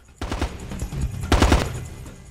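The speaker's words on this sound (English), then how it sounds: "Where are we getting shot from?" Bursts of automatic gunfire from the PSP game Ghost Recon Advanced Warfighter 2, two loud close volleys of rapid shots about a second apart over a low rumbling battlefield background.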